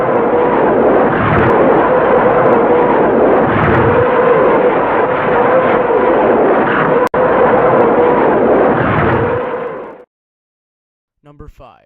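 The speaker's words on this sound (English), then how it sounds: "Katyusha rocket launcher" A Katyusha rocket launcher fires a long, loud, continuous roaring salvo of rockets with rumbling pulses, cutting off abruptly after about ten seconds into near silence.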